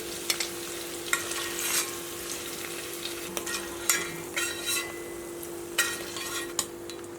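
Paneer sizzles steadily in hot oil, with intermittent crackles and spatters and occasional clinks of a utensil stirring the pan.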